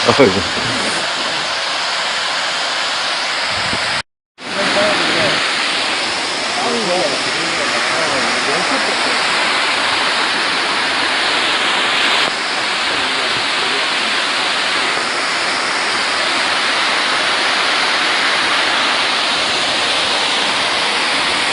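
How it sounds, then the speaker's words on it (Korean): A loud, steady roar of a large twin waterfall with a 10-metre drop at Juwangsan, Cheongsong, fills the whole stretch, broadband and unbroken except for one brief dropout early on. "그러니까 되게 큰 폭포 같다"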